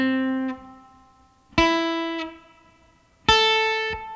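Three clean guitar notes are plucked slowly one at a time as a beginner finger exercise, each attack ringing and fading before the next, soft and close with no voices.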